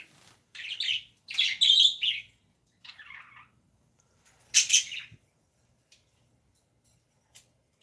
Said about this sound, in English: Can you tell the birds love mornings?